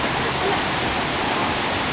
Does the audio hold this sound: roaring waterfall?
yes